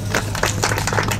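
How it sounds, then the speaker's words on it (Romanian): At a Romanian national junior motorcycle racing championship award ceremony, a crowd applauds a podium finisher, a brief burst of many clapping hands over a steady low hum from a sound system. "să o aplaudăm!"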